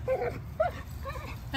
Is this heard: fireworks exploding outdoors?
no